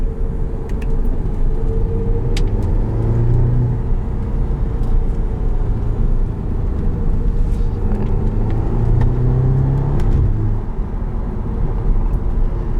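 A 2013 Audi TTS with a dual-clutch gearbox pulls hard out of corners: a steady, close engine drone with a low rumble swells twice as it accelerates, with no talk over it.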